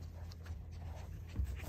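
Fluffy puppies panting softly with small whimpers, close and brief, over a low background rumble.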